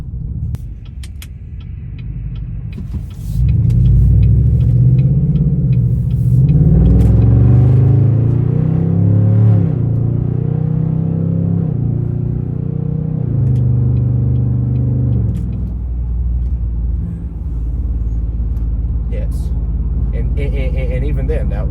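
A Chevrolet LTZ with a loud exhaust accelerates and cruises on an open road, its deep throaty rumble swelling as it revs up and holding a heavy drone from inside the car.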